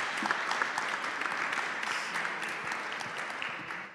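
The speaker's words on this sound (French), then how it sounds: "Merci de les applaudir, s'il vous plaît." An audience at a startup business day claps steadily, with dense, fairly close applause that tapers slightly toward the end, no voices over it.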